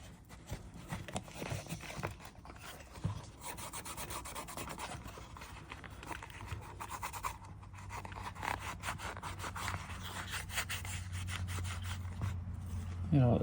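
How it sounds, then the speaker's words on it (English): Someone scrubs corrosion off a rare knife blade coated in neatsfoot oil, making steady, quick rasping strokes that repeat close by at low volume, with faint background murmur. "Get all that corrosion off."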